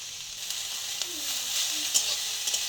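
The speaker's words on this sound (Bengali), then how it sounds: "এখানে সবুজ ক্যাপসিকাম আর লাল ক্যাপসিকাম নিয়ে নিয়েছি, ক্যাপসিকামগুলো দিয়ে দেবো।" Shredded cabbage and green and red capsicum for a momo filling stir-frying in a pan, a steady hiss with a few light clicks of the spoon, close by with no talking.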